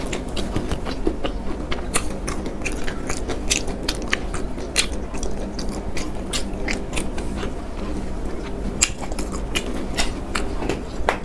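Someone eating and chewing food up close, with steady crunchy bites and mouth sounds running throughout, fairly loud and without talk.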